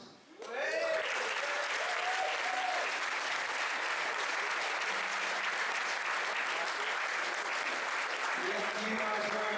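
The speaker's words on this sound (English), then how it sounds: "Keep clapping, let's go." An audience at a 2018 convention event in Rotterdam bursts into loud, sustained applause that continues steadily throughout, with a host's voice calling out over the clapping.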